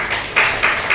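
An audience at a seminar claps in a few broad, slow waves, the soft repeated bursts of many hands blending into a wash.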